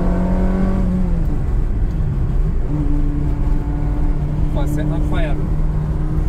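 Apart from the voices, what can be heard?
Ferrari 360 Modena engine while driving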